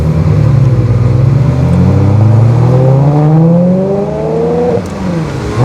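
Ferrari 360 Spider with the F1 automated-clutch gearbox pulling away in first gear, its engine note climbing steadily in loud, close harmonic sweeps as revs rise, then briefly easing near the end, with no talking.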